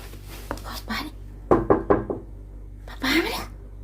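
A door is knocked in a home, a few sharp raps at first and then a quick run of four knocks, with people talking in between.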